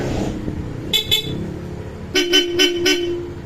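Close, loud Bosch Europa horn honks on a Yamaha NMAX scooter: two short toots, a pause, then four quick blasts in a row over a low idling engine.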